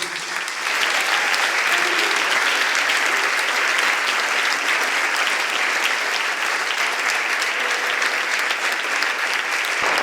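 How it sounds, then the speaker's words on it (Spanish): A church congregation applauds the pastor at the close of a Spanish-language service, a dense, steady wash of clapping that holds loud and unbroken for the full ten seconds. "¿Podemos dar un aplauso, por favor, al pastor?"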